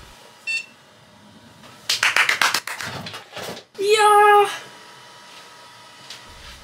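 After some clicks and handling noises, a PC motherboard gives one loud electronic startup beep for about half a second, then quiet returns.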